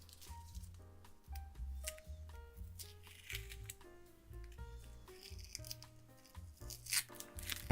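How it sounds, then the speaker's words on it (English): Masking tape is peeled off a freshly painted vintage Record 52 1/2 P woodworking vise in soft, faint tearing and crinkling bursts. Background music plays beneath the bursts. "I could remove the masking tape."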